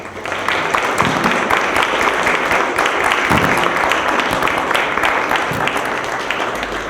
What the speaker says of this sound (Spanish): me inviten a darle un fuerte aplauso a quien llevó a cabo esta obra